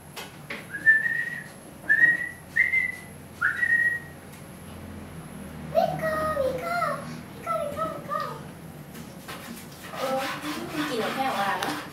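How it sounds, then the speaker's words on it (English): A person whistles several short rising notes in a row to call a dog, then a voice and other talk follow with more faint whistling. "Whistle for him"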